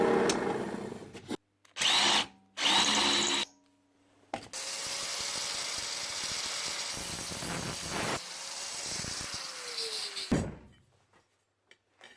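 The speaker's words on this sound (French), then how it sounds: "il me reste à percer 2 trous ici juste pour maintenir la planche" Power drill boring holes through a homemade metal triangle bracket: a few short bursts of whirring, then one long steady drilling run of several seconds with a slowly shifting pitch, close and loud, ending abruptly.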